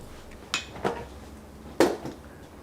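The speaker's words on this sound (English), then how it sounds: "Stir that all up." Spoon knocking against a pot while mashed potatoes are stirred, a few separate clinks and scrapes at irregular intervals, fairly close, with the third knock the loudest.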